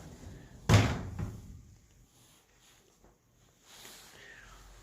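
A door swings open into a semi-basement studio apartment in Sillim-dong with one sharp, loud thud and a brief rattle near the start, then quiet indoor room tone with faint movement.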